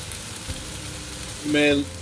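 Onions fry in a pan with a low continuous sizzle and a few light stirring knocks; a brief voice rises over it near the end.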